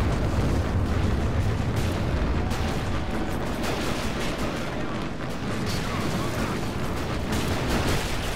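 A vehicle cooking off in Men of War: Assault Squad 2, a continuous roaring rumble of burning and popping explosions with scattered sharp cracks of gunfire, loud and dense throughout, with a voice partly buried in the din.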